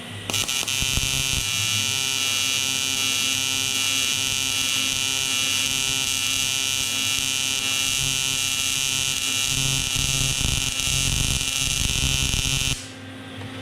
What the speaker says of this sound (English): Now let the tack go on for quite a while, and I've got pulse set up on this to keep consistency.